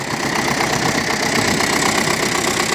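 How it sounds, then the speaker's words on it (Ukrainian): An MTZ tractor engine runs at a steady, loud diesel rumble with a fast, even knocking rhythm and no pauses. "МТЗ працює повним ходом."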